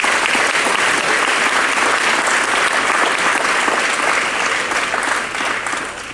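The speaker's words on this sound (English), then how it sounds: "Let's give our top 20 a round of applause." Loud, continuous applause from an audience at a school awards celebration honoring the top 20 students, dense clapping sustained evenly and dropping off slightly in the last second.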